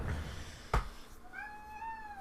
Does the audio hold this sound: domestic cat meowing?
yes